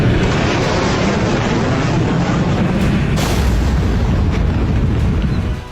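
A missile strike explosion booms out loud and sustained, a dense rumbling roar with a sharper burst partway through, with no voices.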